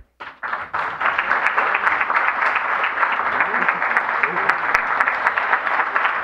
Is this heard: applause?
yes